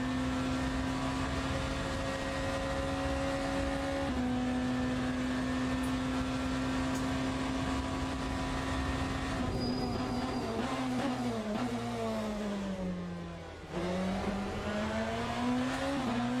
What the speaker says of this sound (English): No, this is Le Mans Ultimate, Planos. We're driving the BMW Hypercar.